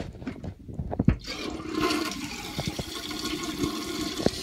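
A household toilet flushes right after its flush chain is reattached, a loud rushing swirl of water near the bowl that settles into a steady refill hiss, with a few knocks and clicks along the way.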